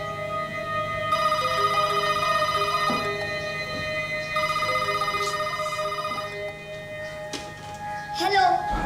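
A telephone rings with a steady electronic ringtone, repeating in bursts for several seconds before a brief voice cuts in near the end.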